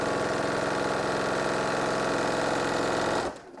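A sewing machine stitches fabric that is held and guided by hand, giving a steady, dense mechanical whirr close by that runs continuously and then stops abruptly near the end.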